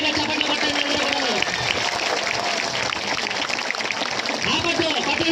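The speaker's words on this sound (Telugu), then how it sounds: "గట్టిగా చప్పట్లు కొట్టండి అందరూ కూడా" Crowd applause at a cake cutting during an Ambedkar Jayanti celebration in Sriharikota, steady dense clapping mixed with crowd noise and voices throughout.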